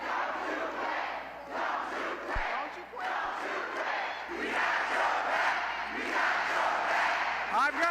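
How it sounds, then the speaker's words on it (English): Rally crowd chanting and shouting in support of President Biden, a dense, loud mass of voices sustained throughout with rising swells of cheering. "And the crowd told him they want him to stay."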